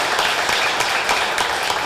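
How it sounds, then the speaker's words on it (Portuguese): Brief burst of audience clapping at a public culture policy seminar, honouring the state culture collective, dense and even with no speech. "gostaria de pedir uma salva de palmas para todo o coletivo estadual de cultura do PT de São Paulo"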